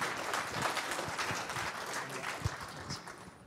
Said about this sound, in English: Let's applaud them for the talk.